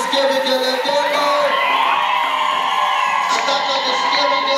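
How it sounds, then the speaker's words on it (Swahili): A church crowd at a Christmas service fills the air with sustained, high warbling ululation and whoops, loud and continuous throughout, with shouts mixed in. "Nataka nisikie vigelegele vya kutosha."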